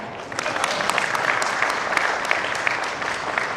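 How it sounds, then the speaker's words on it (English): An audience at a centenary celebration bursts into sustained applause, many hands clapping loudly and evenly in a dense, continuous patter. "big clap for them"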